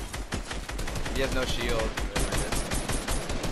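Dense automatic gunfire in Fortnite, rapid overlapping shots crackling continuously and close, with a player talking over it.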